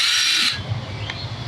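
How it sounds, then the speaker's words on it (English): A wire wheel on a power tool scrubs the bead of a flat tire from a Snapper riding mower, a loud bright whirring grind that cuts off after half a second and leaves a lower rumbling spin-down. "I'll set up with a wire wheel and there's tire crap in there."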